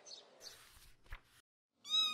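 A cat gives a single clear meow at the end, after a few faint rustles and quiet moments.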